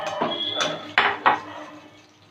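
Lightly fried shrimp come out of a pan of hot mustard oil with a few metallic clinks and scrapes of a utensil against the pan, close and brief.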